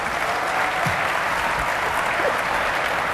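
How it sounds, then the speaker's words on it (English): A large audience claps steadily through a Sony keynote at the Game Developers Conference after an on-stage game performance, dense and sustained applause filling the hall with no one speaking. "Please give them a round of applause"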